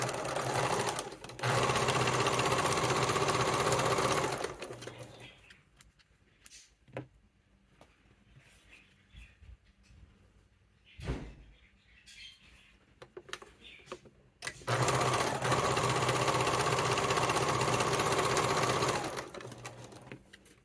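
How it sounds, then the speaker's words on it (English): An electric sewing machine stitches together the short ends of satchel fabric, running loud and steady in two long bursts. Between them is a quieter stretch of fabric handling, small clicks and rustles. "you are going to start out by sewing the short ends together."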